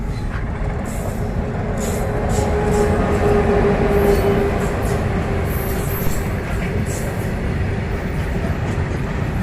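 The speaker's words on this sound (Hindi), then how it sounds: "हमारी ट्रेन आ चुकी है कानपुर।" A train pulls into Kanpur station, a steady, loud rumble of rolling railcars with a faint metallic wheel squeal running through it, close by and continuous with no voices.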